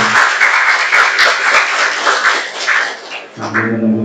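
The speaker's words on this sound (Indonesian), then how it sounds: "Tepuk tangan untuk kita semua" Junior high school students at a school event applaud together, giving a dense burst of clapping from a crowd with mixed voices, which fades into murmuring near the end.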